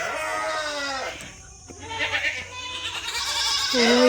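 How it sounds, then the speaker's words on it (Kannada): Goats penned in separate stalls of a farm shed behind a house bleat in several wavering calls, close and fairly clear, with a short quiet gap in between and a fresh bleat rising at the end. "ಇಲ್ಲೇನೋ ಮೇಕೆ ಸೌಂಡು ಕೋಳಿ ಸೌಂಡೆಲ್ಲ ಹಾಕ್ತಿದೆ"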